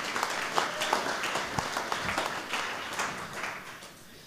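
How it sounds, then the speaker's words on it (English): Modest congregational applause during a church talk on spiritual gifts, a patter of individual claps at moderate distance, uneven and fairly soft, tapering toward the end. "You can clap on that one."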